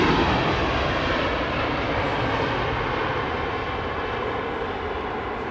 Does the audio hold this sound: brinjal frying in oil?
no